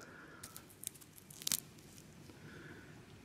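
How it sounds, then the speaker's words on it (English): Protective plastic peeled off a Phoibos Wavemaster watch with a green dial makes quiet, close crinkling and a few sharp tearing snaps, the loudest burst near the middle, against a faint background. "let me just get that plastic off there"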